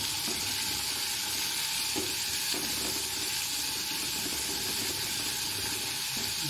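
Mackerel sautéing with garlic, onion and tomato in a pan: a steady, close, continuous sizzle with faint stirring scrapes, no voices.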